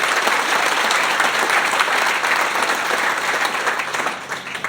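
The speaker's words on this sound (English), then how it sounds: "I'd also like to give a round of applause to the TECO staff" Sustained, dense applause from a crowd at a solar panel dedication at Tampa International Airport, loud and even throughout with no voices over it, tapering slightly at the end.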